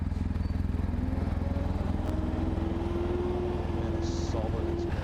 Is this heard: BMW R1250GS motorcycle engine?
yes